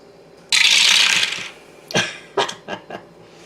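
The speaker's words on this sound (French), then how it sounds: "Donc, Catalina va lancer un dé." Dice rolled during a tabletop board game, a loud rattling shake followed by several sharp clattering taps as the dice land and settle on the table.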